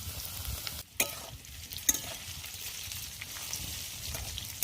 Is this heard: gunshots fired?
no